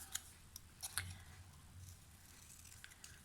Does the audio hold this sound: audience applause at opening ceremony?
no